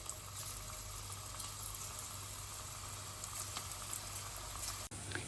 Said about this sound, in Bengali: এখন ওয়েট করব এটাতে বয়েল হওয়ার জন্য, প্রপারলি বয়েল হওয়ার জন্য।